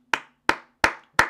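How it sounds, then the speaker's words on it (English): Four sharp, evenly spaced claps ring out close and loud in a quiet room at a regional gaming tournament, with no voices. "Clap that up."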